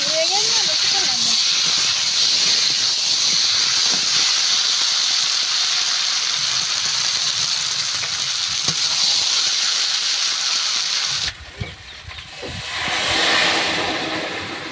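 Chicken curry of country chicken boiling in a pot after hot water is poured over the fried meat, a steady loud hiss and sizzle filling the whole stretch, with brief voices near the end as the bubbling softens.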